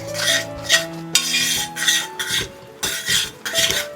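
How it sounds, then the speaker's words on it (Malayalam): Sautéed pineapple and carrot stirred into a pot of pradhaman with jaggery syrup, repeated scraping strokes of a metal spoon against the pan in uneven bursts, close and fairly loud, with a faint hum underneath. "ഇനി ഇതിലേക്ക് നമ്മൾ വഴറ്റി വെച്ചിരിക്കുന്ന പൈനാപ്പിളും ക്യാരറ്റും ചേർത്ത് കൊടുക്കാം. ഒന്ന് ഇളക്കി കൊടുക്കാം."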